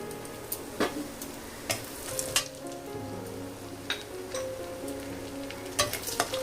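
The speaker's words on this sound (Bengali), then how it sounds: "এবার এই তেলের মধ্যেই আমি ফোড়ন দিচ্ছি একটা শুকনো লঙ্কা, একটু দারচিনি, একটু গোটা জিরে, একটা এলাচ আমি ফাটিয়ে নিয়েছি, আর দিচ্ছি একটু বেশি পরিমাণে হিং।" Dry red chilli, cinnamon, whole cumin, cracked cardamom and a generous pinch of asafoetida sizzle steadily in hot oil for a kudri curry, with scattered sharp pops and crackles over the continuous hiss.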